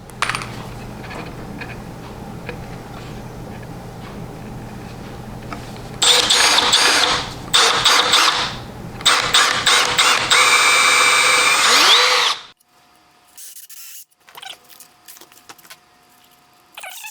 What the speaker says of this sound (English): I'm going to pre-drill some holes for the screws to go in